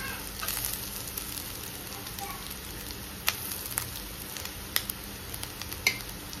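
Spices frying with onions in a pan for Goan chicken xacuti masala, a steady close sizzle with occasional sharp clicks and pops from stirring.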